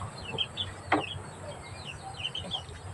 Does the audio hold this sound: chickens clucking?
yes